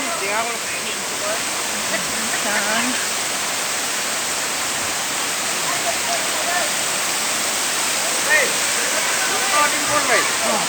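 Water from a sulfuric hot spring gushes and roars in a steady, loud rush, with voices talking faintly beneath the noise.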